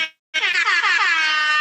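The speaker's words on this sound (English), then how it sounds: "That's not popper. That's like an air horn." An air horn sound effect played from a small device gives one loud, sustained, brassy blast close by after a short silence.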